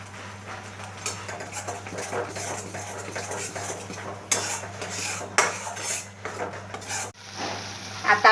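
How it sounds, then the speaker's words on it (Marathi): Chicken sukka masala roasting in oil in a pot, loud metallic scraping and clanking of a spoon against the pan over a constant sizzle, with heavier knocks near the end and no talking. "अजून थोडंसं चांगलं भाजायचं आपण."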